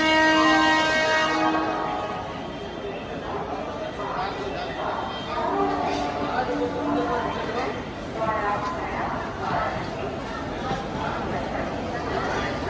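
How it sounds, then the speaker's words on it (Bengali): A train pulls into an Indian railway station on the Howrah to Varanasi route, its horn sounding at the start over a steady rumble, with crowd chatter and voices throughout. "আমাদের ট্রেনও চলে এসেছে।"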